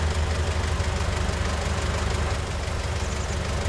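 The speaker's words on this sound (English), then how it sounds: "And I'll also turn the engine off." A tractor engine idles in Farming Simulator 19, a steady, loud low rumble with a faint knocking pulse that holds unchanged throughout, with no voices.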